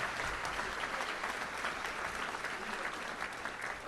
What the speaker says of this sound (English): Let's give a round of applause for being here and having a great day today.